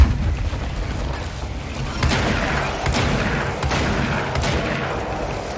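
Rapid gunfire in a shooter video game, with sharp repeated shots and bursts over a dense battle din, loud and continuous throughout.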